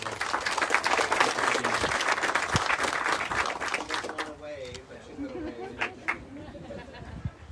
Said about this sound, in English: Round of applause for her as well.